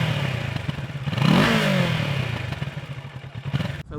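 A Kawasaki Z650 motorcycle with a bone-stock exhaust revs and pulls away on the road, its engine note rising into a loud surge then settling into a steady, close drone with some clattering.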